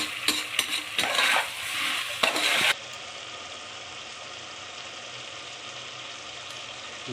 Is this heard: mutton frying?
yes